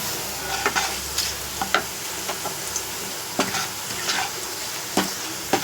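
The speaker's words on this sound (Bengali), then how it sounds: "আমি তেজপাতা রসুন ফোড়ন দিলাম, আর রসুনটা একটুখানি হালকা ফ্রাই হয়ে যাওয়ার পরে" Bay leaf and garlic sizzling in hot oil, a steady crackling fry with intermittent sharp clicks and taps of stirring scattered throughout, close and moderately loud.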